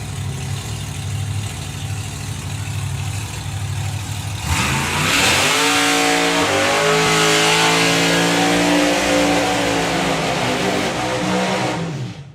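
A drag racing car at a drag racing event does a burnout: a loud idle gives way to sudden hard revving and roaring engine with tyre screech, sustained and close.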